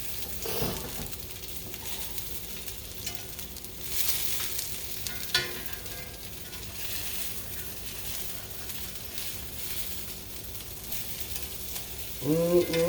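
Bacon grease hisses steadily in a pan while potato patties fry, with occasional scraping and stirring, a faint clatter midway and a louder clunk of utensils near the end; no voices.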